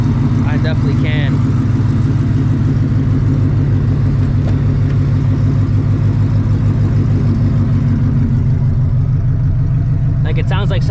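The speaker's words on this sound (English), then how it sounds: "it sounds like something's spinning in the transmission, like freely" A car's transmission, with something inside spinning freely, gives a loud, steady low rumbling drone and a rhythmic whirring hum, with people talking over it.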